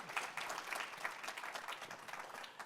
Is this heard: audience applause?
yes